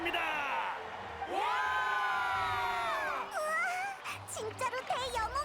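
Crowd cheering and whooping at a ceremony honoring a hero in the video game Genshin Impact, with rising excited shouts, wails and whistles from many voices, loud and sustained through the scene.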